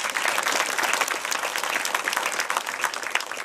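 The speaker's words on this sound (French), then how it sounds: "Elle mérite des applaudissements." Crowd applause at a 2018 veterans' association congress in Garlin, France: dense, steady clapping from a large audience filling the hall, loud and continuous throughout without talk.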